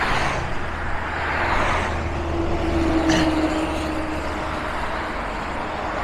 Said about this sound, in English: loving this traffic